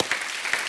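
Brief burst of audience applause from a studio crowd at a comedy talk show, a dense wash of clapping heard alone.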